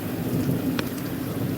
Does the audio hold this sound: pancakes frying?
no